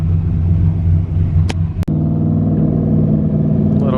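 A turbocharged LS-engined car rumbles loudly and steadily with a deep, throaty engine note, with a sharp click and a brief dip midway before the drone continues.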